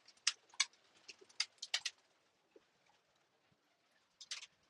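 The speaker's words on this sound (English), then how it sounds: "Birds are looking good." Pigeons coo in a racing pigeon loft, with several soft, close bursts in the first two seconds, a short lull, and another cluster near the end.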